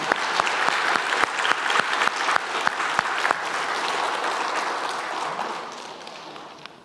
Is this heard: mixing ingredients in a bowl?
no